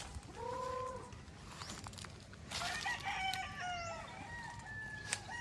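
Hens cluck and murmur in a farmyard coop, with a few drawn-out calls and some short sharp notes over a steady outdoor background hum. No one talks.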